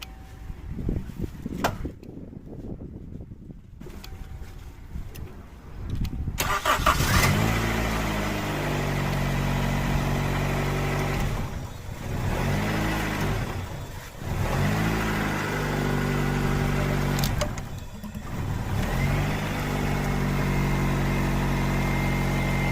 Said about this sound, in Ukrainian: Автомобіль завівся